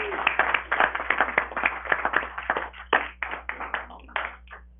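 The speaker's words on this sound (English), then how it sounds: "So that's worth a round of applause," A city council meeting audience claps for a champion men's basketball team, a small crowd of distinct, crisp hand claps in a brisk, uneven rhythm over a faint steady hum, thinning out toward the end.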